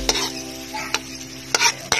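Mushrooms browning in a hot pan sizzle steadily, with a few sharp scrapes and clacks of a utensil stirring them, close and clear with no talking.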